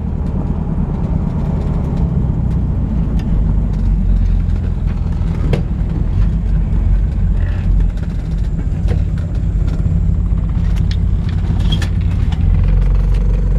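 A 1963½ Ford Galaxie 500 XL with a 289 small-block V8 and cherry bomb mufflers idles steadily nearby, a constant low exhaust rumble with no speech.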